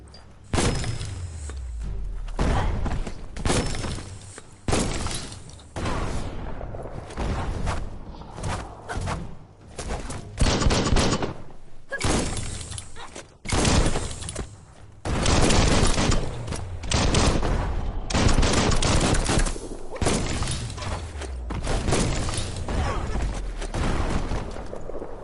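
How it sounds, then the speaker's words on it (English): Bomb lobber weapon firing repeatedly in the game Biomutant on PS5, a long run of loud booming blasts and thuds with debris crashes, coming in dense irregular volleys close up. "That's a bomb lobber."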